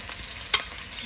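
Onion dropped into hot oil gives a brief, steady sizzle with one short crackle in the middle, close and fairly quiet.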